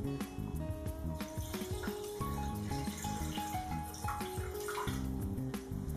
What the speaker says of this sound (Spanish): Y lo que hacemos ahora es cubrirlo de agua.